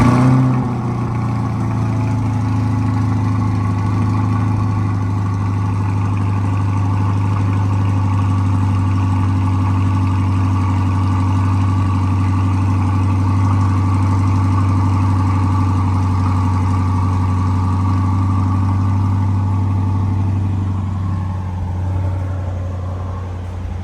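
A Chevrolet Corvette C8 with an exhaust routed around the tips starts cold and settles into a loud, deep, steady idle that holds for about twenty seconds before fading slightly at the end.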